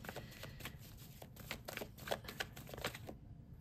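Tarot cards riffle and slap in quick, irregular bursts of papery flutter and soft taps, close but quiet, ending in silence.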